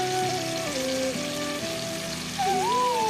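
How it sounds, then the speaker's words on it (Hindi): Masala and tomatoes frying with added water in a pan, a steady, close hiss and sizzle, with a faint tonal whine drifting underneath throughout. "तो मसाले को अच्छे तरीके से भून लूँगी और टमाटर भी गल जाएंगे।"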